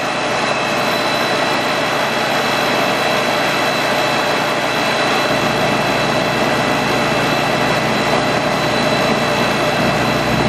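A Farmall Cub tractor engine runs steadily at full throttle, powering a Surge milking machine; the loud, constant drone holds unchanged throughout with no pauses.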